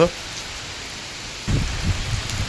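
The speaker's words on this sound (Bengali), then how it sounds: "এখন আমাদের মালয়েশিয়াতে বৃষ্টি হচ্ছে দেখতেই পাচ্ছ" Steady rain falls in Malaysia, a soft constant hiss that thickens midway with heavier low patter, close and without talk.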